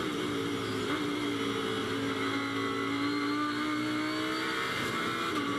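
A Lamborghini GT3 race car's engine screams on board at Brands Hatch, a continuous loud, high-revving tone with shifting pitch as it works through a corner, no voices over it.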